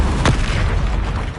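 A Repulsor spell blast fires in the video game Hogwarts Legacy: a single sharp burst with a low boom, followed by a dull rumbling wash that slowly fades.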